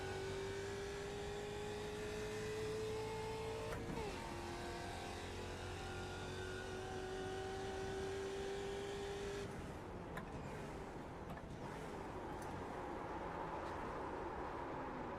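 Ford Mustang race car lapping Laguna Seca, its engine droning steadily at high revs with a rising and falling pitch, a sharp shift near four seconds and a rougher, busier stretch toward the end; loud and close throughout.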